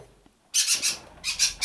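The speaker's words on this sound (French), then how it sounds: "ça c'est mes oiseaux. Ils viennent d'avoir peur d'un chat sûrement qui se promène dans le jardin." Pet birds squawk in alarm after being frightened by a cat passing through the garden, two bursts of loud, harsh, repeated calls separated by a short pause, close by.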